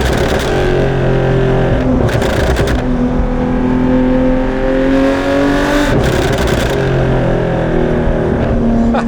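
Loud flat engine of a Porsche 911 GT3 Touring with a 6-speed manual, revving hard through rising pulls with a gap between them, close and continuous from start to finish.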